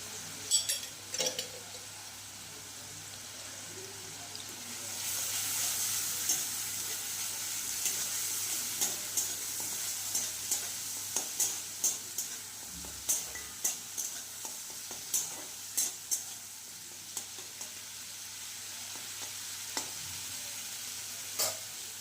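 A ground paste of tomato, ginger and green chili sautéing in a pan: a soft, steady sizzle under repeated rhythmic scrapes and taps of a stirring spoon, fairly quiet and without speech.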